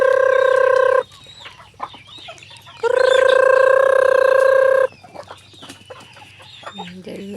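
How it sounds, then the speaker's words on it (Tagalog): Farm chickens being fed give loud, drawn-out clucking calls in two long bursts, close to the microphone, with softer scattered clucks and scratching noises between them. "Pakain tayo ng chicken."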